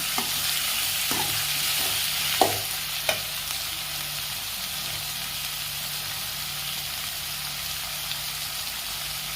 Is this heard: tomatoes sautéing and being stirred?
yes